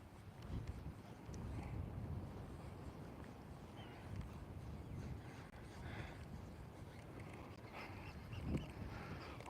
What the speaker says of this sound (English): But it is even more windy out here